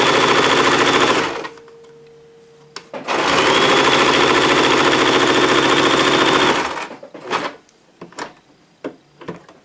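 A sewing machine stitches fabric for an apron in two loud, close runs, one short and one longer, then stops, leaving scattered clicks and handling thumps.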